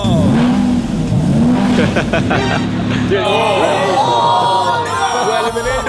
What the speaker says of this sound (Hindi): अगर मैंने एक्सेलरेट किया तो वो लोग चौंक जाएंगे